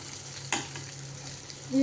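Coconut, garlic and ginger sautéing for Chettinad country chicken gravy, a steady low sizzle with one sharp scrape of a spoon against the pan and a brief tonal beep near the end, no voices.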